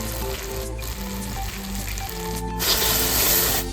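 Ginger and garlic paste fry in a pan, a continuous close sizzle over a low steady hum, growing a little louder and brighter near the end.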